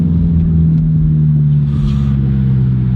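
BMW M6 launching hard from a standstill, a loud, steady, close engine roar and deep rumble that holds throughout, with no talking.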